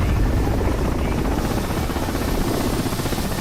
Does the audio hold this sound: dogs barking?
no